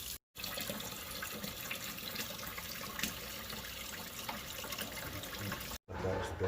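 Cold water pours steadily into a container where freshly caught and cleaned trout are set to soak with ice, a continuous close splashing rush that cuts out briefly near the start and again near the end.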